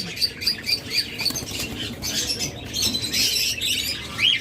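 A pair of cockatiels calling in a busy bird shop, with steady high chirps and squawks running throughout, close and fairly loud among other birds.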